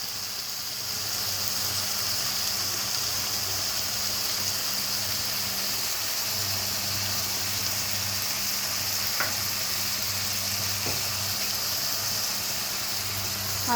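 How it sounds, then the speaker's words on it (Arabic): Liver sautéing in a pan for a quick liver tagine makes a steady, loud frying sizzle throughout, with a couple of faint utensil taps partway through and no talking. "كده هسيبها تتشوح شويه."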